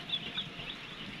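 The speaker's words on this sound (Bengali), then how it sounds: "তো এই হচ্ছে আমার মুরগির বাচ্চাগুলা, আজকে বয়স 2 দিন চলে" Two-day-old chicken chicks feed, with a few faint high peeps over a quiet, even background.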